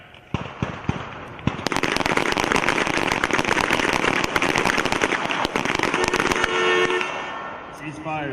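Team pistol match at a U.S. Army small arms championship, many sharp pistol shots cracking in rapid overlapping volleys from several shooters on the firing line, loud and near, with commands spoken at start and end.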